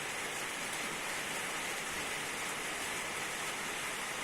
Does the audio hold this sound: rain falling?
yes